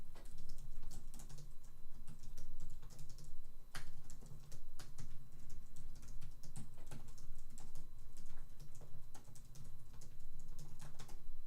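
Rapid typing on a computer keyboard, dense irregular clicks and key taps at close range, continuous and fairly loud with brief pauses, no voices.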